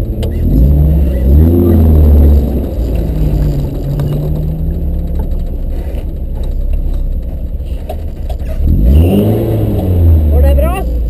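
Rally car engine revving and accelerating hard during a special stage of the Edaneracet 2012 rally, heard from inside the car in rising surges, loud and close, with people talking over it.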